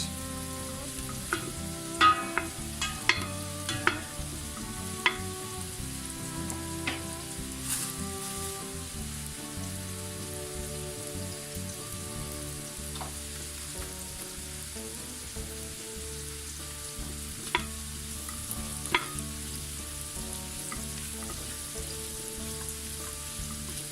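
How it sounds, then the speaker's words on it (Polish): Butter sizzles and crackles steadily as it melts in a hot pot for chicken risotto, with occasional sharp pops and light clinks rising over a constant frying hiss. "do garnka dodaję masło. Musi się rozpuścić."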